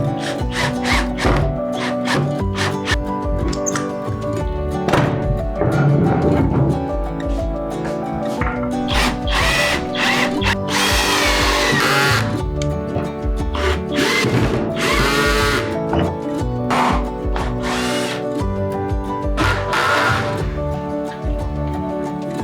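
A power drill drives screws through reclaimed pallet wood into the legs of an outdoor patio table, in repeated whirring bursts of varying length with brief pauses between them, loud and close.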